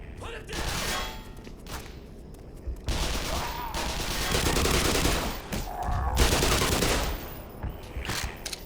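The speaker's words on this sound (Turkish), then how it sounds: "Çatışma sesleri de geliyor." Gunfire from a firefight in Black Mesa crackles in bursts, mid-distance and fairly loud, mixed with thuds and game ambience.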